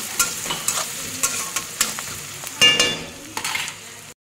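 Onion and red chili frying in a pan, a steady close sizzle broken by repeated scrapes and stirring knocks of a spoon against the metal, with no voices present.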